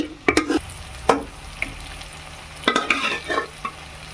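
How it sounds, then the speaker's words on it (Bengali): Taro cooked with meat being stirred in a pot, a few sharp scrapes and clanks of a spoon over a low sizzle, heard in short bursts up close. "এবার মাংস দিয়ে আর একটু কষিয়ে নেবো"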